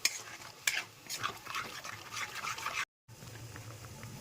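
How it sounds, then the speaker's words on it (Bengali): Tomato paste stir-fried with spices in a pan for a potato curry, giving soft wet scraping and faint sizzling, stirred in uneven strokes with a brief gap near the end. "এর মধ্যে আমি দিয়ে দেবো একটা টমেটোর পেস্ট। এটা দিয়েও সুন্দর করে কষিয়ে নেব।"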